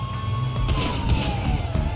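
Police car siren in a GTA V roleplay chase, a loud wailing tone sliding slowly downward over steady engine and road noise, heard alone without speech for about two seconds.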